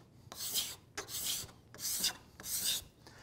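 A steel card scraper drawn across a wooden surface in four rhythmic rasping strokes, close and distinct, each a bright scratchy stroke separated by short pauses, with no voices.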